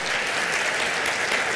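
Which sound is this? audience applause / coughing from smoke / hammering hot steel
audience applause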